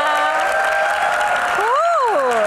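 A studio audience at a live Q&A show in Jakarta breaks into steady applause and some cheering, loud and continuous throughout, with a voice calling out briefly over the clapping.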